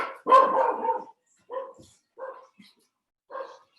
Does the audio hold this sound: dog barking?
yes